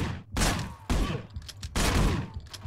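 Several loud gunshots from the video game Manhunt fire in quick succession, each a sharp blast with a short echoing tail.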